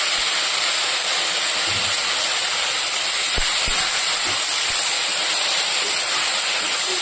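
Spinach greens with slit green chillies sizzle and fry in a pan, a steady loud hissing broadband sizzle throughout, with a few soft clunks of stirring midway.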